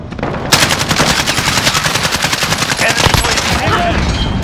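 Rapid automatic gunfire from a Call of Duty Modern Warfare team deathmatch, loud and close, with dense rattling bursts running almost without pause and faint game voice chatter underneath.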